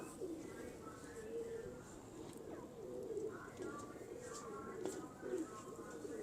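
Soft, low pigeon cooing repeating in rolling phrases, fairly close, over a steady background hum.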